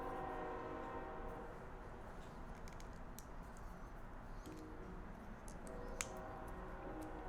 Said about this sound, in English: There's my local train.